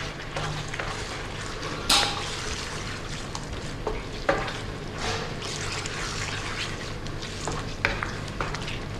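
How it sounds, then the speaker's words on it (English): Chicken tikka masala curry sauce, finished with chopped coriander and spring onion, is stirred in a hot pan; steady sizzling and frying runs throughout, with occasional louder scrapes and clinks of the spoon against the pan. "Give that a stir."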